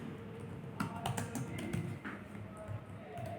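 Rapid typing on a computer keyboard while entering text into an HTML file, a steady run of close, crisp key taps over a constant low room hum.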